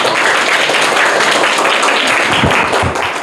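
Loud, dense applause from a school audience for a quiz contestant in a student competition, a continuous close roar of many hands clapping with no talk over it.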